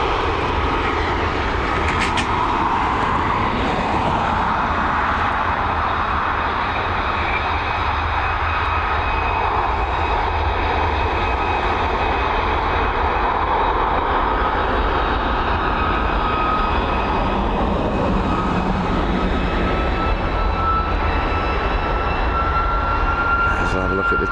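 A Boeing 787-9 airliner arriving at Dublin Airport, a loud continuous jet engine roar with a thin whining tone riding over it, steady throughout at close range.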